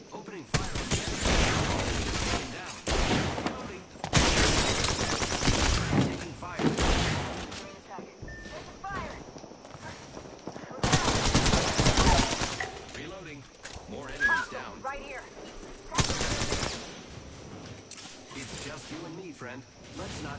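Bursts of automatic gunfire in Apex Legends come in several loud volleys separated by quieter stretches, with game effects and occasional talk between them.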